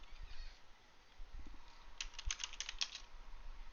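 A command being typed on a computer keyboard makes faint, quick key clicks, with scattered taps first and then a close, rapid burst of keystrokes in a quiet room.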